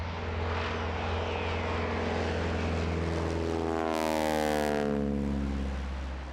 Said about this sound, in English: One of the interesting characteristics of the Harvard is the noise it makes when it passes you.